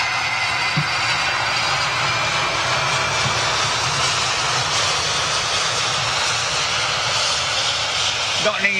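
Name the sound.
jet airliner rolling out on the runway after landing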